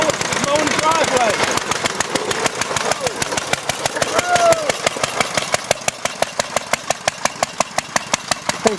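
A lawn mower runs steadily while being pushed across a driveway, its engine chopping in a fast, even pulse throughout, with people talking and laughing over it.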